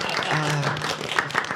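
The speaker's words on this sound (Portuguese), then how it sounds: "Eu pausei pro aplauso" A studio audience applauds a drag performer guest on a podcast, a short burst of clapping and cheering with voices audible beneath it.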